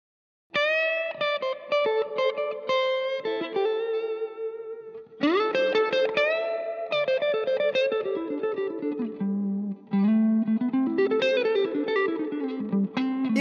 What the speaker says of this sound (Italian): E tenendo premuto a lungo seleziono riverbero Hall.